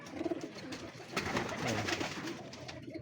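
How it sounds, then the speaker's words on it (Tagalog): Racing pigeons bred for south and summer races coo softly and repeatedly at close range in a loft in the Philippines, a steady layered murmur of several birds with no talking. "So marami kasi tayong kalapati rito."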